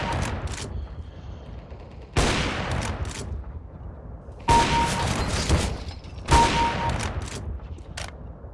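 Gunfire in Counter-Strike: Global Offensive, with several loud, sharp bursts of shots standing out from a steady background of game sound, each burst ringing off briefly before the next.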